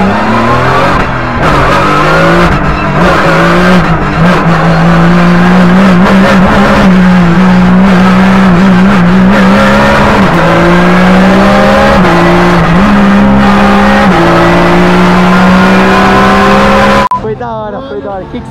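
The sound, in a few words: Porsche race car accelerating at Interlagos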